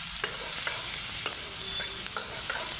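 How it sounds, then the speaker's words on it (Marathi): Peanuts roasting in a hot pan for Maharashtrian fodni rice, stirred with a spoon that scrapes and clinks at a steady rhythm over a constant sizzle, close up with no voices. "शेंगदाणे पण थोडं भाजून घ्यायचं मी भाजलेले शेंगदाणे घातले"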